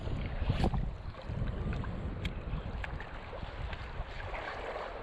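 Strong wind buffets an open boat while fishing at sea, a loud, steady broadband roar with gusting rumble and water slapping against the hull throughout, no voices.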